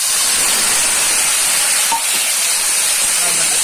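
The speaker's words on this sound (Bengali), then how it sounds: "মশলাটা, মানে গুঁড়ো মশলা যেগুলো দিলাম সেগুলো ভালো করে একটু ভেজে নিচ্ছি" Ground spices frying in a pan with peas, tomatoes and green chillies for a mung dal curry, giving a steady, loud hiss and sizzle that holds evenly the whole time with no talking.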